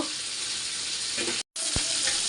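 Salted, turmeric-coated shrimp sizzle in hot oil in a pan, a loud continuous hiss broken by a short gap, with a light scrape of stirring afterward.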